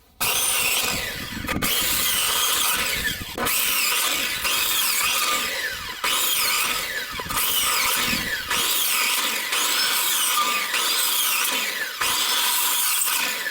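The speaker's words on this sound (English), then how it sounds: "This is actually the second time I've actually used a circular saw." Circular saw cutting fence wood, loud and continuous with the blade whining through several successive cuts separated by brief dips, no talking.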